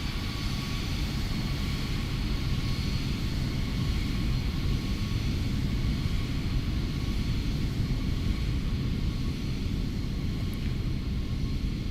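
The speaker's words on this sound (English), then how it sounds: "And we'll do a little flyby here." An Embraer Lineage (X-Craft) jet passes in X-Plane 12, heard as a steady, moderately loud engine rumble and hiss with no sharp peak.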